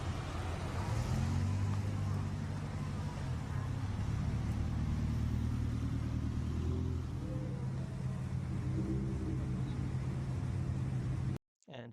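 Several modified, lowered cars at Tokyo Auto Salon 2002 drive out together, a steady loud low engine rumble and exhaust drone filling the scene throughout, with voices mixed in, before cutting off abruptly at the end.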